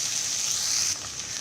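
Okra (bhendi) frying in an open pot gives a steady, close hiss of sizzling oil that drops a little in loudness partway through.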